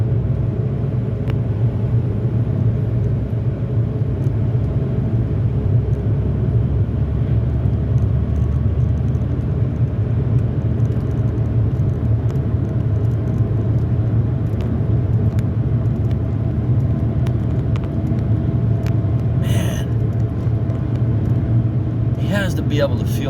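A semi truck with two-piece wheels drones steadily from inside the cab, a loud continuous low rumble from a wobbling wheel rim, while a person talks over it.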